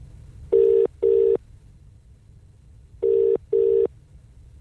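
Telephone keypad tones sound from a village payphone box, four loud steady beeps in two pairs, each about a third of a second, with a short gap inside each pair and a longer pause between the pairs, over a quiet low hum.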